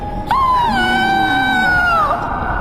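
A woman lets out a loud, drawn-out scream in a witch horror tale: one sustained wavering wail of about two seconds that bends downward and trails off at the end.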